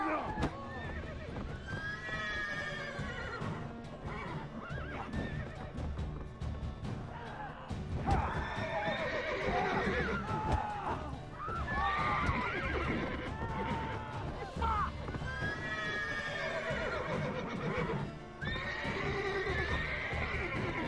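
Horses in the video game The Witcher 3: Wild Hunt neigh and whinny repeatedly amid clip-clopping hooves and clattering crashes, loud and busy throughout.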